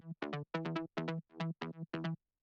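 A plucked saw-wave mid bass patch from the Spire synth, filtered and compressed, plays a quick rhythmic run of short, punchy notes with gaps between them, sounding alone and fairly quiet.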